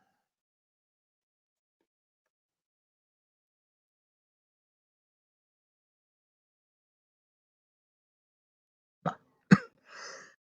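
A few short coughs near the end of an otherwise silent stretch, close and fairly loud, two sharp bursts followed by a softer one.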